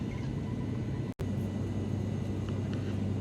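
Steady broadband roar of an airliner cabin in flight, a continuous close engine and air rumble that cuts out for an instant near the middle, with no talk.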